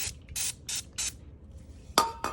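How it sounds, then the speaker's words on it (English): Brake cleaner hisses from an aerosol can onto a rear brake caliper of an FRS/BRZ/86 in four short, even bursts, followed by a couple of sharp metallic clinks. "So what we're gonna do is we're just gonna spray this down real quick."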